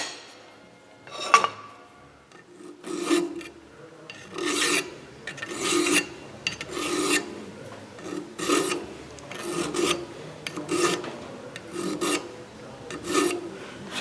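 Hand file rasping burrs off an Emmert pattern maker's metal vise in a steady series of about a dozen rhythmic strokes, close and clear with no talking.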